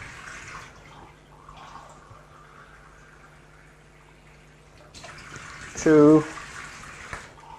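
Water pours in a short splashing burst into a pan of paella as a man counts aloud, with soft kitchen background before and after.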